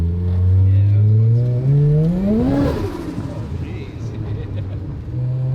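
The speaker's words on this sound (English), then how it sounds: "Here's just full throttle, 2nd gear." A Mazda RX-7 making around 700 horsepower in a 2200 lb car, its engine pulled at full throttle through second gear, rising sharply to a high pitch and then dropping on the shift before building again, loud and close throughout.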